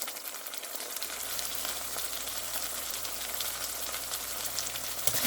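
Salted tomatoes frying in a pan for a radish stir-fry, giving a steady, dense sizzle that runs evenly throughout with no voices.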